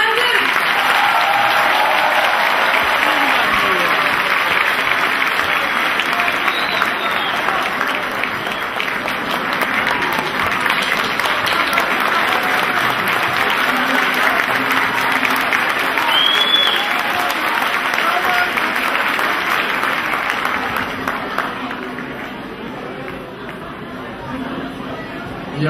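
Sustained applause from a concert audience at a Rumeli and Albanian folk music show, a dense, steady wash of clapping with crowd chatter mixed in for about twenty seconds before it thins out near the end.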